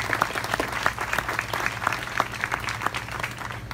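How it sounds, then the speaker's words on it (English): Audience applause at a mobile mammogram centre launch event, a steady patter of many hands clapping that continues evenly and moderately loud with no talking. "If we could all give a round of applause to the team"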